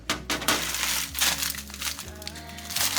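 A plastic bag of organic peas is cut open close by, giving loud crinkling and crumpling plastic rustles in uneven bursts throughout.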